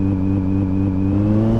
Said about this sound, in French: je vais laisser passer la voiture